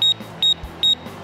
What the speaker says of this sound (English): It's going into alarm.